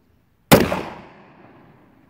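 A single sharp gunshot from a used Taurus PT111 G2 pistol cracks out loud and close after half a second of silence, then decays into a short ringing tail, with no talking.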